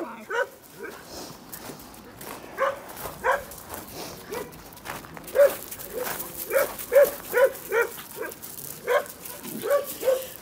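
Dogs at an animal shelter bark and yip repeatedly in short bursts, close by, with some whimpering mixed in and a voice talking over them.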